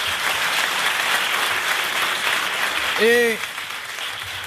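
TV studio audience applause, a sustained wash of clapping from a crowd, with a single short spoken word from a man cutting in near the end before the clapping carries on.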